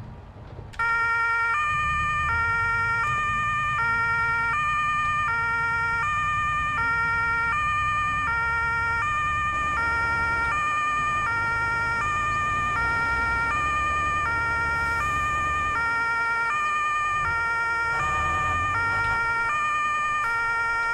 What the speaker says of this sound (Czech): zase můžu zapnout sirény